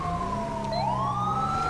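An ambulance siren sounds during a police pursuit in the video game GTA with the LSPDFR police mod. Its tone dips and then sweeps upward, loud and near, over a steady low engine hum, with no voices.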